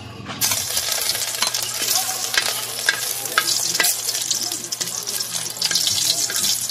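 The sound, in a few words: garlic frying in a pan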